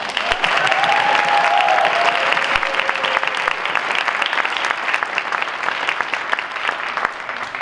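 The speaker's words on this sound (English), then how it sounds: "give her a very loud round of applause" A large audience at a high school band concert applauds steadily and loudly for several seconds, dense clapping filling the room without pause.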